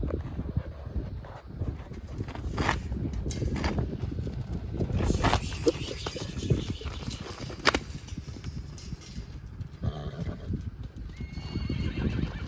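A young two-year-old stud colt in a round pen whinnies loudly several times while its hooves clip-clop steadily on the ground, close by, with light wind noise.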